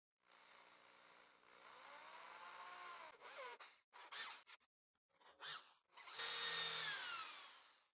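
A power drill with a 2.5mm bit and 6mm countersink boring holes in wood, loud close whirring that runs, pauses and restarts in several bursts before a final high-pitched spin.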